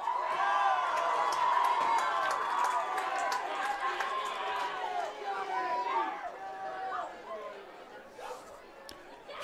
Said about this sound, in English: that was his fellow seniors cheering for that